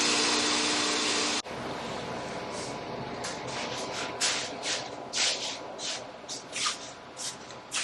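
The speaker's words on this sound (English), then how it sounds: "Alright, compressor kicked on again." Air compressor running steadily after kicking on in a workshop with a 1980 Harley XLH transmission, a loud broadband hiss that shifts to a lower steady drone, with scattered knocks and shuffling on top.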